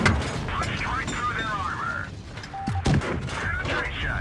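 Shots from a Matilda tank's gun in a video game crack out amid overlapping gameplay noise and a talking voice, with a sharp burst near the start and another loud report just before the three-second mark.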